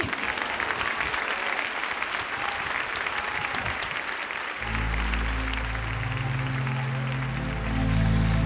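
A congregation claps during a Baptist church service, sustained loud applause from a large crowd, joined midway by a low, sustained musical drone underneath that carries on to the end.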